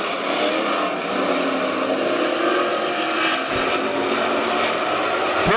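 WISSOTA Super Stock race cars roar together at the green flag at Granite City Speedway, a loud, dense, continuous engine din filling the whole stretch with no talk.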